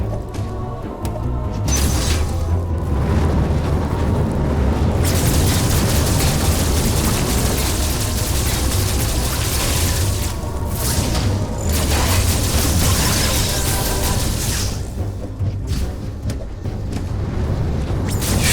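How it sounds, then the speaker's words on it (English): Bombs going off against a patch of ground in Metroid Dread, a loud, dense rumbling barrage of booms and crashes running continuously with no talk over it. "Why am I even bothering to bomb that bit of ground"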